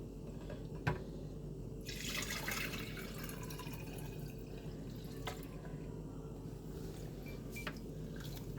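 Homemade coconut milk is poured into a glass, giving a faint, soft stream of liquid with scattered small drips and splashes over a low steady background hum.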